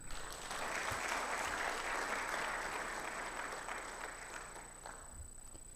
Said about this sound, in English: I think he deserves some applaud.